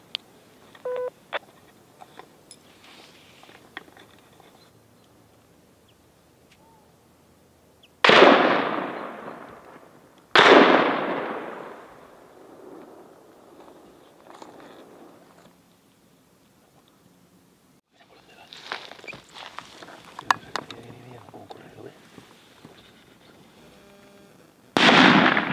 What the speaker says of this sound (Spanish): Los dos primeros tiros no lo ha dado.